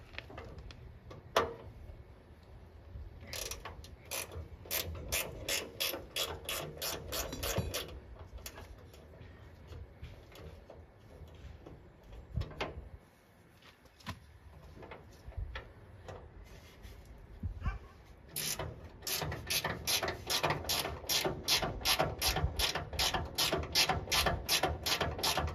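Ratchet wrench clicking in rapid repeated bursts while removing bolts from the underside of a 1964 Chevy Impala during teardown, with pauses and clunks between runs, close and fairly clear.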